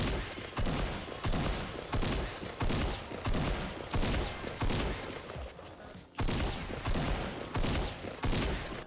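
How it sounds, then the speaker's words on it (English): Tactical shotgun in Fortnite firing automatically, a steady run of loud booming blasts at roughly two per second, each with a short crashing decay, heard close with no talk. "The tactical shotgun is automatic."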